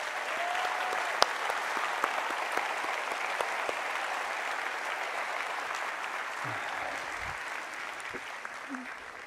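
Steady applause from an audience at a sovereignty conference, dense and continuous throughout, with a few sharp individual claps and a brief voice near the end.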